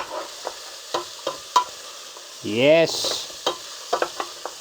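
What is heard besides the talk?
green and yellow vegetables frying in hot olive oil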